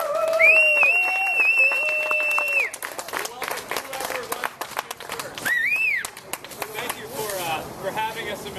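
A crowd at a statewide candidates' get-out-the-vote rally claps loudly for several seconds, close and dense, then the applause thins as whistles and cheering voices rise over scattered clapping.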